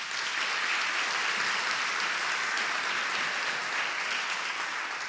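A church audience at a sermon breaks into steady, dense applause that fills the whole stretch at an even, loud level without any voices over it.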